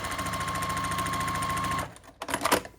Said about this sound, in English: make sure the triangle is laying flat and then sew across